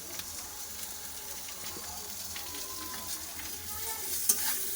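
Steady sizzle of flat beans frying in a pan, with occasional stirring scrapes, fairly close and continuous, no voices.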